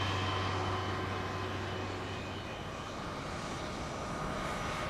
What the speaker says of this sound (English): Captain Van Zanten immediately pushed up the throttles to take off.